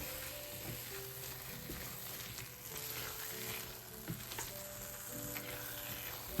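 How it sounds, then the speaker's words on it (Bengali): A mango sandesh mixture with a little milk powder is stirred in a pan until dry, giving a soft, continuous sizzle with scattered scrapes and faint clicks; no voices. "এটাকে আমি একদম শুকনো হওয়া পর্যন্ত নাড়তে থাকবো"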